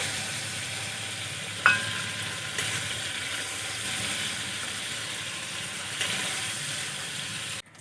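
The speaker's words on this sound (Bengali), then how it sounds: "চিংড়ি মাছগুলো আমি ভেজে নিয়েছি" Prawns fry in hot oil with a soft, steady sizzle, broken by a sharp clink near the start and a few light knocks.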